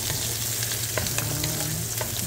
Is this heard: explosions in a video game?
no